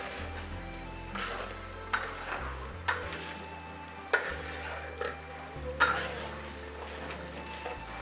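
Minced ginger and garlic fry in a hot wok while mapo tofu with beef is being cooked, giving a steady close sizzle broken by several sharp scrapes and clanks of a spatula stirring against the metal.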